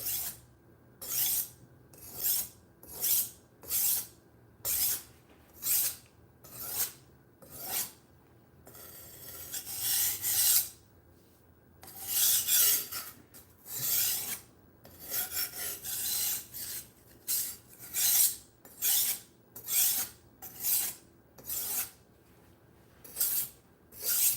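A budget knife blade is drawn over a small diamond square sharpener in regular rasping strokes, about twenty close scrapes in steady rhythm, with a short run of quicker rubbing in the middle and no talk.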